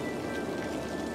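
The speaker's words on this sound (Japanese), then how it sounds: "あれ、なんか雨降ってきたな。" Rain beginning to fall in the city-building game Cities: Skylines, a faint, even patter-like hiss with a thin steady tone running beneath it.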